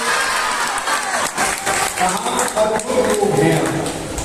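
Audience applause at a Hindi kavi sammelan poetry gathering, a steady burst of clapping running for several seconds with crowd noise and some voices mixed in.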